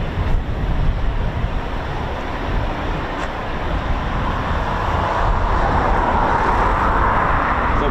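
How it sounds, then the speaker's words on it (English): Steady road traffic rumbles in the distance beyond an RAF station's official viewing area, a continuous broadband wash with no clear individual vehicles and no talking. "You may hear some traffic noise in the background"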